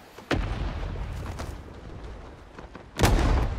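Artillery strikes land in Rising Storm 2: Vietnam. Two heavy explosions come a few seconds apart, each a loud, deep boom followed by a rumbling tail.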